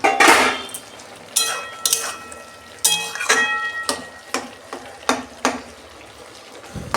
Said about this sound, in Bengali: এই যে ঢাকা দিচ্ছি, ঢাকনা খুলছি।